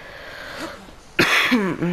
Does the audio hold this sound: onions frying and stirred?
no